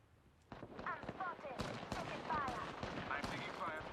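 Gunfire from Apex Legends plays as rapid cracking shots and bursts under game sounds, moderately distant and fairly quiet, while players talk over it.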